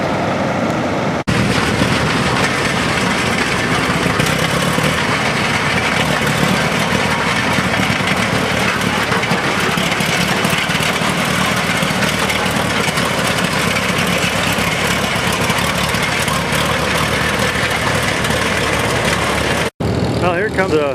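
A Caterpillar diesel engine runs steadily in an outdoor tractor show setting, giving a loud, continuous low rumble with broadband roar throughout and no speech.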